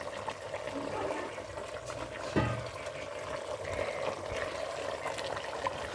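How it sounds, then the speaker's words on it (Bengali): Water poured into meat cooking in a pot, a steady trickling and splashing stream that runs continuously and fairly close, with one brief clunk near the middle. "মাংসটার মধ্যে একটু পানি দিতে হবে।"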